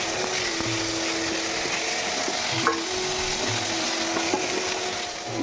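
Chicken pieces sautéed in hot oil on an induction cooktop for homemade pizza, with a steady close sizzle and occasional stirring scrapes and knocks throughout, no talking.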